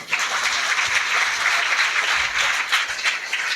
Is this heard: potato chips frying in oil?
no